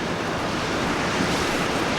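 Loud, constant wind buffeting the microphone, a dense roaring rush with no breaks.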